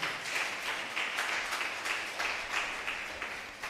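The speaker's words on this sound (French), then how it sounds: "Si vous êtes avec moi, acclamez le Seigneur." A church congregation applauds to acclaim the Lord, a steady dense clapping from many hands filling the room for several seconds with a slight rhythmic pulse.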